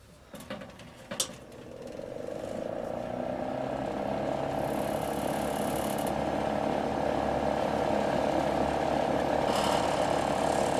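A 1320-watt electric garage heater runs with a steady mechanical rattle and hum after a couple of sharp clicks at switch-on, continuous and fairly close.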